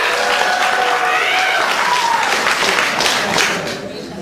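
Conference audience at an emergency medicine gathering in New York claps and shouts, a dense burst of applause mixed with cheers and whoops that fades slightly toward the end.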